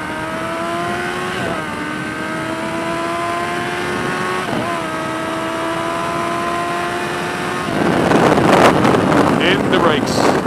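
A 1987 slab-side car drives along with a steady engine hum whose pitch rises through the gears, with brief shift dips, then swells into louder, rougher acceleration near the end under wind noise.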